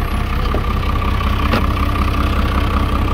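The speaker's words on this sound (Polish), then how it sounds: "Wyłączę traktor" A farm tractor idles at steady, close range during autumn rapeseed sowing, a loud continuous rumble with no talking.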